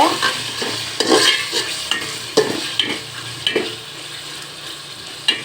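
Beef frying with ginger garlic paste in a pan is stirred repeatedly, a continuous sizzle broken by regular scraping knocks of a spatula, close and fairly loud.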